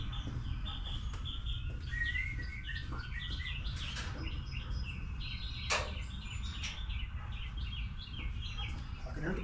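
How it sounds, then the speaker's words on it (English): Birds chirp and tweet outdoors beside a Craftsman T140 MTD riding mower under repair. Scattered bright calls repeat over a steady low rumble and faint background noise, moderately distant and continuing throughout. "I can hear the birds tweeting."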